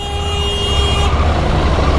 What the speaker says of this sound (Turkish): Korna uzun süredir duymadığım bir şeydi.